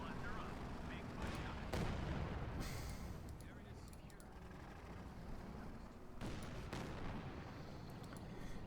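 A Jackson tank destroyer fires on a tank in Company of Heroes 2. Several fairly faint gunshot bursts and cracks punctuate a rumbling battlefield bed, with a commentator's voice talking over it.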